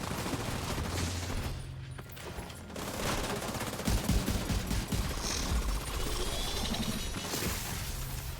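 Dense bursts of gunfire and automatic weapon fire from the video game Tom Clancy's The Division 2, loud and close, with clattering impacts and crashes running almost continuously and no speech.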